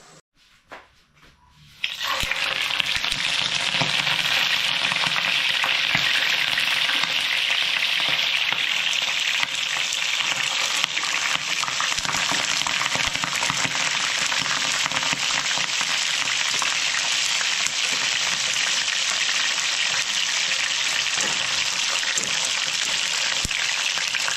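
Tilapia frying in hot oil, a loud, steady crackling sizzle that begins abruptly after a quiet moment and continues close up without letting up.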